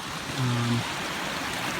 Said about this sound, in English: Check this out, another beautiful creek.